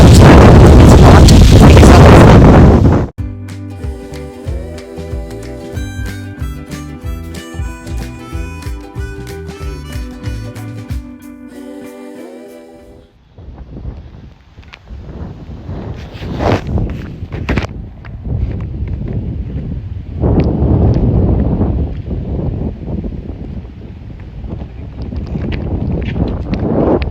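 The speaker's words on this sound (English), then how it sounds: "the wind is blowing, and the wind is very cold right now" Cold wind blows outdoors in Canada, roaring loudly against the microphone at first. Music then plays for a stretch before gusty, rumbling wind returns and buffets on and off.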